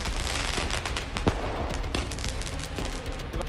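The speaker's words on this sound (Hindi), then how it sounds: "पटाखे और आतिशबाजी में बच्चों के साथ बड़ों ने भी हिस्सा लिया" Diwali firecrackers and fireworks set off at night in Delhi, a dense continuous crackle of rapid pops and bangs with a few sharper reports standing out, loud and unbroken throughout.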